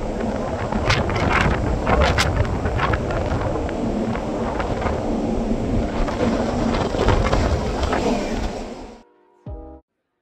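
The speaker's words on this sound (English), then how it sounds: "The wind is crazy right now." Strong gusty wind buffets the microphone on a Carnival cruise ship deck, a loud continuous roar with sharp gust bursts that cuts off near the end.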